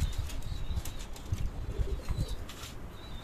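A flock of pigeons flaps its wings in short bursts while landing on a rooftop loft on a cloudy winter day, close and fairly loud, with soft cooing and chirps underneath and no talk.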